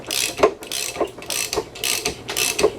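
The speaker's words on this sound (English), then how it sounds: "I'm just using the big 1/2-inch drive ratchet there, so you'll see her come right out." A big 1/2-inch drive ratchet is worked to pull a heated pinion bearing, giving a close, loud repeating pawl clicking in steady strokes about every half second.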